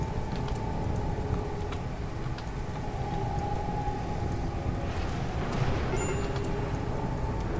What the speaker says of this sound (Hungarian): Eső viharra.